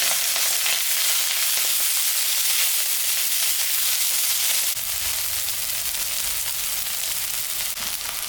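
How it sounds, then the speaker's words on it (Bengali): Onion and garlic, with ginger, green chilli, black cumin and dried chilli, fry steadily in hot oil in a pan for a taro-stolon curry, giving a loud, continuous close-up sizzle with no voices. "পেঁয়াজ রসুন ভাজা ভাজা হয়ে গেছে।"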